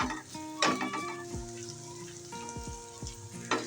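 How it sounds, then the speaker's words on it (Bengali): Ginger garlic paste frying with onion and oil in a pan, a soft steady sizzle with a few sharp clinks and scrapes from stirring, close and fairly quiet, no voices. "আদা রসুন পেস্টটা আমি ভালো করে পেঁয়াজ আর তেলের সাথে ভেজে নেব"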